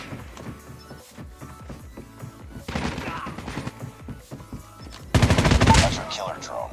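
Automatic gunfire rattles in a Call of Duty Mobile team deathmatch, with a fast burst of shots midway and a louder, denser volley near the end over quieter game background.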